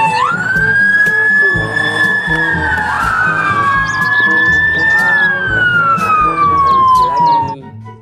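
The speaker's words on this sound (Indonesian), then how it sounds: "kita menemukan mobil polisi lagi" A toy police car's electronic siren wails loudly and continuously in long rising and falling sweeps, layered over a busy background of toy sounds or music, with a voice heard now and then.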